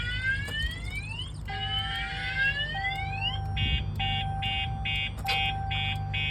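Alarm on a 2022 RAM TRX pickup truck going off nearby: rising electronic whoops give way to a steady tone and then a rhythmic series of repeated beeping pulses, loud and continuous over the low engine-bay hum.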